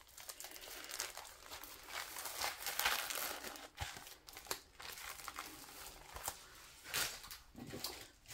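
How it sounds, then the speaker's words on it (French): A plastic bag crinkles and rustles in the hands while diamond painting supplies and rhinestones are packed away, irregular close bursts of crackling continuing steadily throughout. "J'essaye de ranger ça dans le plastique, parce que sinon, je vais tout mélanger."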